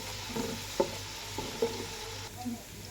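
Chopped onion and garam masala fry in hot oil with a steady sizzle, close by, and occasional stirring scrapes over it.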